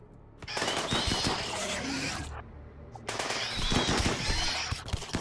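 Bursts of gunfire from a wall of gunners in RimWorld, two long stretches of rapid crackling shots separated by a brief pause, fairly quiet overall.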